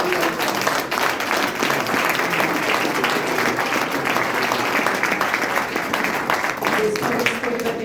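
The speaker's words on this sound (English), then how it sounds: "a big round of applause for everybody" An audience at a residents association meeting with mayoral candidates gives a sustained round of applause, loud and even throughout, with a faint voice or two mixed into the clapping.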